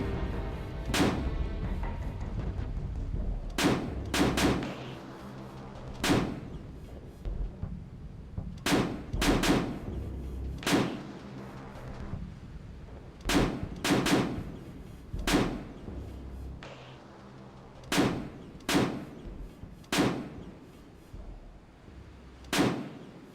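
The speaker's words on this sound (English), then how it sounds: "From the hills of northwest Altis, the guns can fire all the way to Pyrgos Bay and the NATO airbase." Artillery guns fire in the Sea Power video game across Altis in 1974, a series of sharp, booming blasts spaced every second or two, some in quick pairs, each ringing out over a low steady rumble.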